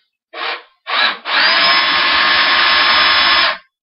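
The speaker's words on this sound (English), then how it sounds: "I also have the drill on the low setting so it just doesn't go blasting through the acrylic" An electric drill on its low setting bores into acrylic, starting with two short whirring bursts before settling into one sustained, steady drilling run nearby, loud and alone.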